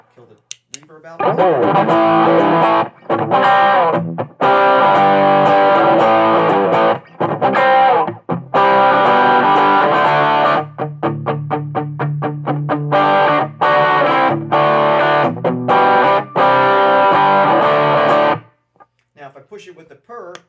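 An electric guitar is played through an NRG Purrer pedal into a Magnatone Starlite amp, producing a fat, driven tone. Sustained chords and riffs run almost continuously with a few short breaks before the playing stops near the end.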